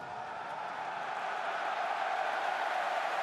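Rugby World Cup 2023 stadium crowd at France versus Uruguay reacting to a successful kick at goal, a steady broad swell of cheering and applause that builds slightly, heard from a distance.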